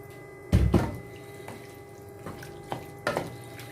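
Water from a vessel is poured into a pot of pork for a Kerala-style roast. The pour arrives in a few short splashing bursts, with quieter drips and knocks between them, and no voices.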